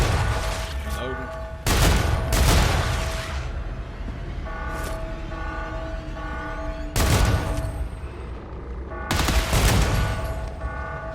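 Bursts of automatic gunfire from a weapon in a video game, several loud separate volleys broken by quieter gaps with a steady electronic hum underneath.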